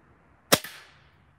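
A 210 lb compound crossbow fires at a 2-euro coin with a single sharp, loud snap that decays quickly, on its own in a quiet outdoor setting.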